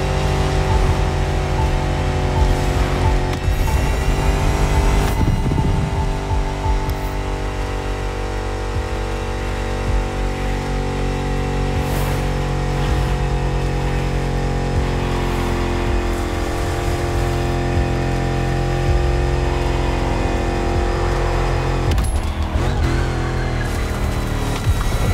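Cars drifting in the racing game The Crew Motorfest: a loud, continuous engine roar that holds steady for the whole stretch, with shifting revs and a couple of brief surges, no voices.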